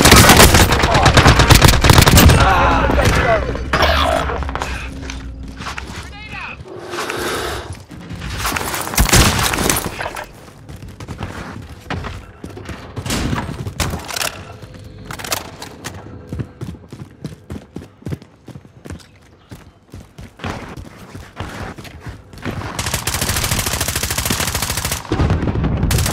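Automatic and rapid gunfire in a Call of Duty Warzone Resurgence match, with loud bursts and fast rattling volleys that come in waves, together with short in-game callouts and other game sounds.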